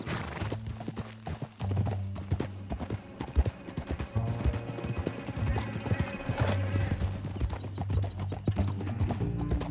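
Horse hooves clatter in a fast galloping rhythm under a low engine-like drone, with a horse whinnying at one point, in the video game Red Dead Redemption 2.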